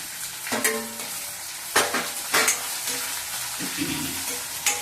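Sliced onion dropped into a pan with browned lentils for Andhra gongura pachadi, sizzling and frying steadily with a few stirring scrapes and clinks close by.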